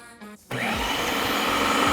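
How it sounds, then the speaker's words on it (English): A blender grinding peanuts into peanut butter, starting with a short quiet stretch, then a loud, steady motor whir with a churning rumble that carries on to the end. "I've been blending now for about 10 minutes, and as you can see, it has gotten nice and creamy"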